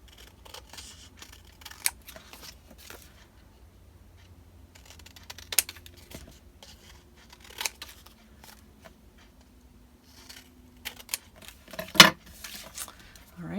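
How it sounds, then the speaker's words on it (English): Scissors trimming a paper collage strip, close snips and small paper rustles spaced out over several seconds, with one sharper cut near the end, all fairly quiet with no talking. "then I'll turn it over and trim that off"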